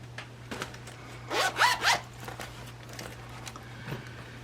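The zipper on an A5 zip binder is pulled open in a quick run of three short rasping zips, close and clear against a quiet room with a low steady hum.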